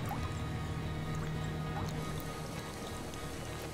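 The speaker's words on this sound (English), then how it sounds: "It's raining. We can finally gather some more water." Rain falls in the game Endzone: A World Apart as a steady, dense wash of patter and drips that holds even throughout, with no voices over it.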